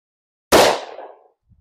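A single sharp .45 ACP gunshot, Federal HST 230 grain jacketed hollow point +P, fired over a chronograph from about four or five yards, loud with a short decaying tail and no talk.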